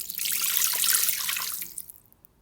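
Water pours into a Thermomix bowl for fougasse dough, a close, splashing rush that stays loud and steady for a couple of seconds before trailing off into a few drips.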